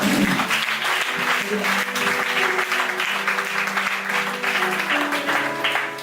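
A church congregation applauding to acclaim the Lord at a prophetic gathering, steady sustained clapping from many hands filling the room, loud and close, with faint tonal music underneath.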